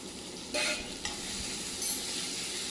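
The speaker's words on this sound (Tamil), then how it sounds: "உப்பு சேர்த்து நல்லா வதக்கிட்டு" Tomato masala with salt being sautéed for egg curry, a low sizzle marked by a few sharp scraping stir strokes, close by with no talking.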